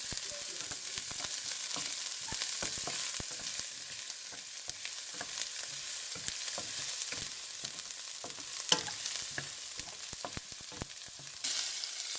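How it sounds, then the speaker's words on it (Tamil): Garlic and ginger frying in a pan for prawn fried rice, with a constant close sizzle and repeated scraping stirs, and no talk over it. "இந்த உள்ளியும் இஞ்சியும் கொஞ்சம் பொரியட்டும்"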